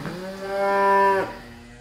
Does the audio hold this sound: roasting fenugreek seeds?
no